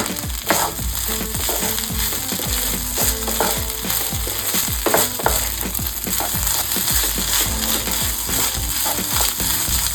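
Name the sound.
rice frying in a pan over high heat for ilish polao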